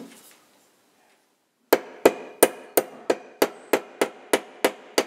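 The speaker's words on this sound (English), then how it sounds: "So the little rough burr on every tuning pin has to be flattened." Hammer taps flattening rough burrs on the tuning pins of a fortepiano under restoration, a steady series of about ten sharp, close metallic strikes evenly spaced after a short quiet start.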